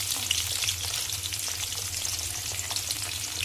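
Curry leaves crackle and fizz in oil over a low flame, a brief, moderately quiet, even sizzle with small popping specks throughout.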